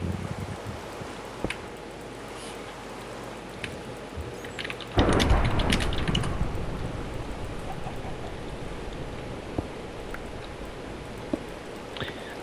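Steady Minecraft rain hisses throughout, with a sudden loud crash of thunder about five seconds in that rumbles and slowly fades back into the downpour.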